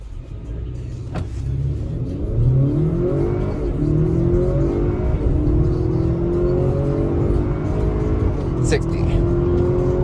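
A 2021 Acura RDX A-Spec launches hard from brake torque at around 2,000 RPM, its engine note rising steadily through the gears as it accelerates, heard from inside the cabin with a voice talking over it.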